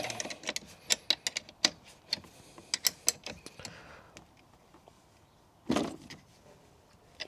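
Spanner tightening a 10mm nut on a battery kill switch terminal, a quick run of small sharp ratcheting clicks and metallic ticks, then a brief scrape, close and fairly quiet with no talk.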